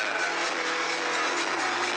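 A 1.5-litre diesel car engine pulls steadily under acceleration, heard from inside the car as a continuous loud drone with a slowly climbing pitch.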